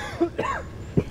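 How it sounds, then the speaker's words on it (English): A man coughs after smoking weed on a golf course, giving a short throaty hack followed by a rough, strained voice sound and a final harsh cough, close and loud. "He's got out the cough."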